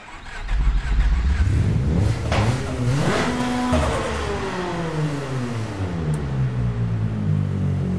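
A car engine in the Apex Point racing video game starts and revs on a dyno, a loud, steady engine roar climbing and falling in pitch through repeated rev sweeps with no talk.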